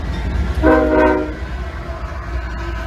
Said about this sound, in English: A Herzog Rock Hauler / Rock Runner. Pretty cool train.